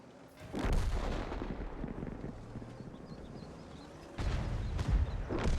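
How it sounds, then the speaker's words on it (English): Heavy booming artillery blasts in World of Tanks, a loud thump early and two more near the end, over a low rumbling battlefield ambience. "At least artillery did some damage at the end."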